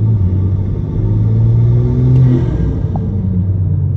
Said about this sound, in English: The turbo has been making a weird noise upon decelerating.